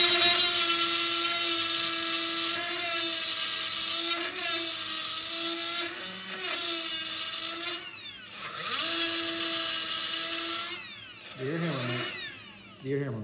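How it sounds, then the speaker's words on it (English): Small die grinder cutting through a stripped shock mount nut on a Prevost bus conversion, a loud sustained high-pitched whine that rises and dips as the tool bites, continuous for most of the stretch before tapering off. "So we're going to use this little die grinder and cut it in half."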